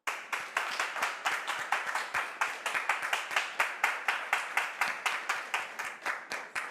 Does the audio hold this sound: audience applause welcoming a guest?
yes